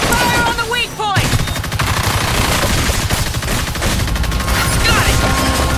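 Heavy, rapid automatic gunfire rattles nonstop in the sci-fi game Evolve, loud and dense with booming impacts, while a voice calls out over the shooting.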